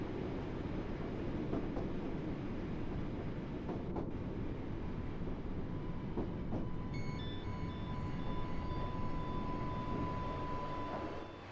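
A train rumbling steadily along the line in the Great Western Express video game, a continuous mid-loudness roll with a faint tonal whine and brief high squeals partway through.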